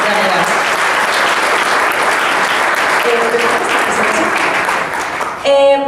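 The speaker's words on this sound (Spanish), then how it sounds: "yo sí quiero pedir un fuerte aplauso a los mentores de esto" Loud, steady applause from a conference audience at a university congress opening, filling most of the clip before tapering off as a voice begins speaking.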